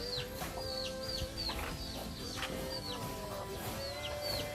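Several chickens cluck and chirp around a farm hut in the morning, a steady overlapping chorus of short calls close by, with a couple of rising squawks among them.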